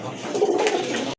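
Pigeons coo in a low, steady, rolling murmur that runs on for about a second before cutting off abruptly, nearby and fairly loud, with no clear speech.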